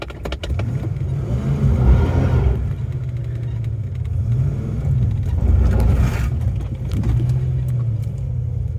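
An old Fox car driven slowly back into a garage after repairs, a close low engine rumble with gentle revs rising and easing twice, no voices.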